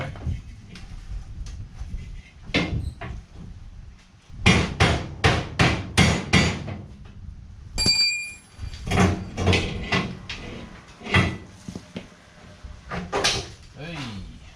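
Repeated loud metallic hammer blows strike a car's trailing arm on a jacked-up white Suzuki Alto Works CN21S, landing in uneven bursts with short pauses, while someone talks in between.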